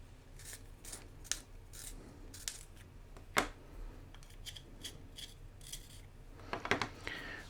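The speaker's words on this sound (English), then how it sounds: "Sharpen this pencil." A pencil is sharpened in a few brief scraping bursts spread across the clip, close and fairly quiet, with a louder cluster of rasping strokes near the end.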